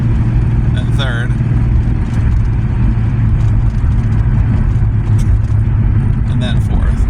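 A 1980s Ford car with an AOD automatic transmission drives along with a steady, loud engine and road drone as it shifts into third gear, while someone talks over it.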